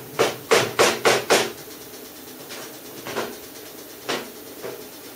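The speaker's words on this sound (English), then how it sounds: "I hit that with the hammer there" A hammer strikes a metal clamp in a quick burst of four sharp blows, followed by a few lighter, spaced taps, close and loud with no talking.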